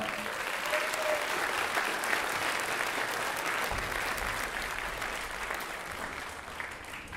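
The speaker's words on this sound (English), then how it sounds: "please, round of applause for those parents that really helped out" Sustained applause from a crowd at a school beginning band spring concert, directed at parent volunteers, a dense and even wash of clapping that holds steady throughout, moderately distant and without voices over it.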